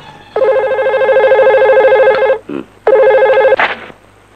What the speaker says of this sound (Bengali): আব্দুল হুজুর ওসিকে ফোন লাগাও